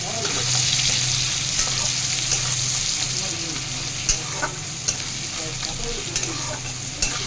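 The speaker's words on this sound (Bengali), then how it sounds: "কড়াই পেঁয়াজ দিয়েছি নুন দিয়ে ভাজ দিয়েছি" Onions with salt sizzle and hiss steadily in hot oil in a wok, with occasional scrapes and taps of a spatula stirring against the pan.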